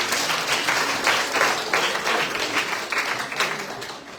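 An audience at a school graduation ceremony claps steadily, a dense and lively round of applause that holds for several seconds before easing off slightly.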